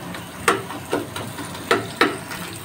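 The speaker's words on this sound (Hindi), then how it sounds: "काजू और ये हमारे पास अखरोट हैं, इनको हम रोस्ट करेंगे।" Cashews and walnuts roast in a pan for carrot halwa, a soft continuous sizzle broken by several sharp scraping stirs at irregular intervals, close up and with no one talking.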